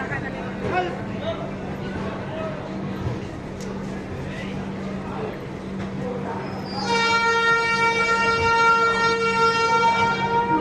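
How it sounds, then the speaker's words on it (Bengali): A train rolls into Varanasi station platform amid crowd chatter and a steady hum, then a loud sustained horn blares near the end. "বারাণসী প্ল্যাটফর্মে ট্রেন ঢুকছে"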